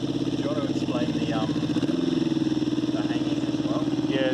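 A 1984 Suzuki GS250FWS motorcycle idles with a steady, throbbing mid-pitched engine note that holds close and even throughout, with a slight waver in the revs, while a voice talks over it.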